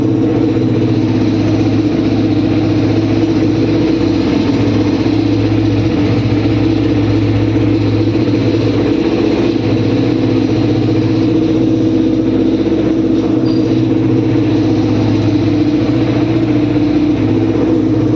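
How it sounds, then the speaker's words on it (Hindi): A Yamaha R15 motorcycle engine running at a steady idle after starting, a continuous close, even hum with no revving. "बाइक स्टार्ट है लेकिन गियर डालने के बाद बंद नहीं हो रही है"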